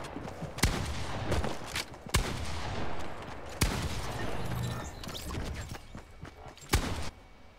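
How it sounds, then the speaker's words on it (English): Video game gunfire from someone shooting everybody: sharp, loud single shots ring out at irregular intervals, each followed by a rumbling tail, over a busy background. "Why are you mass shooting everybody?"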